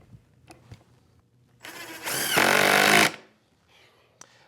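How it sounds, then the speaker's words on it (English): Power drill driving screws into a wooden cleat, one whirring burst that rises in pitch and strains louder for about a second before stopping, with faint workshop knocks around it. "Now I can attach this second cleat with some screws."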